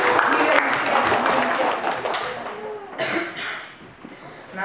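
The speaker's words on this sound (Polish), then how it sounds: "wielkie brawa poprosimy" An audience claps for a nervous young primary-school boy at a university event, a dense burst of applause that fades toward the end of the stretch.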